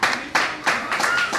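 Audience members at a comedy show clap in a few loose, uneven bursts, close and moderately loud, over a short stretch.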